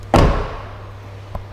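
A 2020 Hyundai i30 car door slams shut with one solid, close thud that fades quickly, followed about a second later by a faint, short click.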